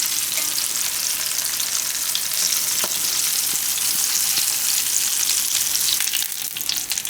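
Sweet potato and fenugreek tikki frying in hot oil in a pan, a steady even sizzle running the whole time with small crackles and pops, close and fairly loud, no voices.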